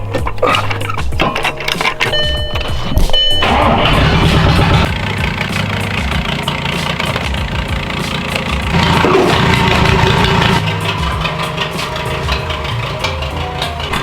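A car engine idles steadily in a garage to fill air suspension bags, a loud, continuous low rumble close by with some clicks and mechanical noises early on.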